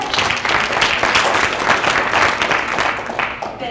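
Applause from an audience at a school district video forum, a dense steady wash of many hands clapping for nearly four seconds, fading slightly at the end.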